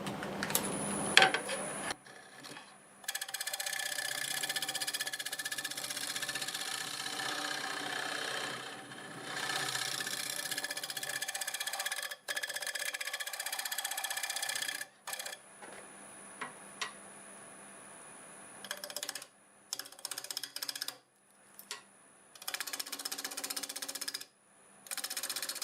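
A scraper rides across a spinning glued-up board bowl on a wood lathe, giving a steady scraping rasp over the motor's drone, broken by several short stops and restarts.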